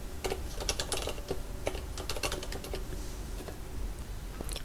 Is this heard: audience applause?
no